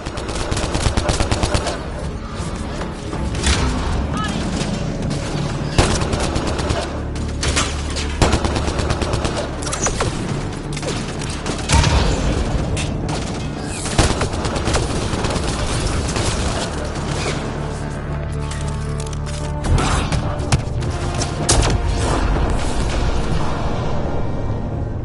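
A sustained firefight in Mass Effect: Andromeda against Kett forces, with rapid automatic gunfire, sharp single shots and occasional booms rattling on continuously and loudly for the whole stretch.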